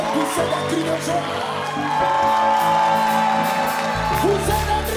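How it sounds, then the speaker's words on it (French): A crowd at a televised show whoops and shouts cries of joy, a dense mix of voices and cheering that swells midway and stays loud throughout. "Est-ce qu'on peut pousser des cris de joie?"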